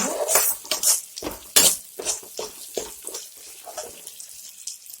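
Water splashes into fried moong dal in a pan and is stirred, giving close, uneven sloshing and scraping bursts that fade quieter toward the end.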